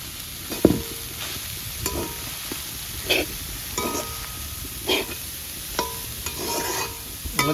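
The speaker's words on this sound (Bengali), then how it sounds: "লাল শাকটা ভেজে নেবো" Red spinach sizzles in a hot pan while a utensil scrapes and stirs in regular strokes, close and fairly loud.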